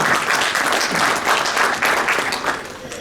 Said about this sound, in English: that deserves another round of applause for the great work being done on our behalf